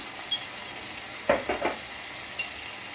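Ground spices with garlic paste, ginger, turmeric and chilli powder fry in a pan, a soft steady sizzle broken by a few brief stirring scrapes near the middle.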